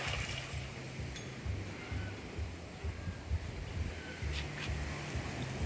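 Sea waves wash ashore at Valdez Resort on the beach at Barangay Bagbag, Bauang, La Union, a soft continuous surf with faint wind noise and low murmuring voices in the background.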